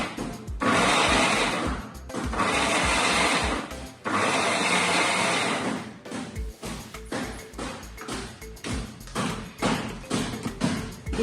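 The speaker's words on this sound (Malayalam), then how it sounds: "ചക്കയെല്ലാം ആദ്യം ഒന്ന് അരച്ചെടുക്കണം മിക്സിയുടെ ജാറിൽ" A mixer grinder jar blends jackfruit for Kerala halwa in loud, close bursts of whirring motor roar with a rattling thump, then stops and restarts in short pulses and taps, no talk.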